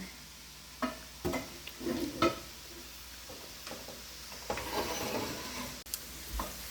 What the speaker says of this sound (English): I'm going to toss everything together and cook it for an additional minute or so.